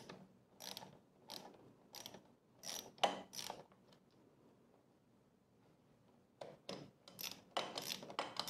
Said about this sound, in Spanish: Vamos a empezar quitando estos dos tornillos, amigo. Y estoy usando un dado Thor número